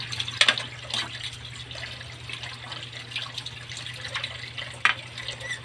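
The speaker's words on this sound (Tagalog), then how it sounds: "hugasan ko siya ulit para matanggal yung mga bula-bula na naiwan" Chicken pieces rinsed again under a running kitchen tap for adobong manok, water splashing steadily with a few sharper drips and splashes, close and moderately loud, no talking.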